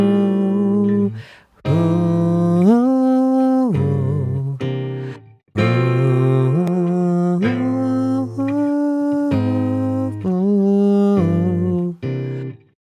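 A clean keyboard-like tone plays an Undertale tune with its final two chords reharmonized, the melody moving in steady phrases over sustained chords with short pauses, no talking.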